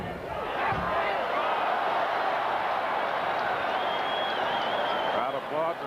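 Crowd applause at a boxing match between Sugar Ray Leonard and Marcos Geraldo, a steady, loud wash of clapping and crowd noise filling the arena with faint voices mixed in throughout.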